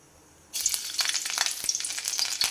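Cashew and paneer masala starts sizzling loudly in a hot pan, a sudden onset of dense crackling and spitting that continues steadily, close and without talk.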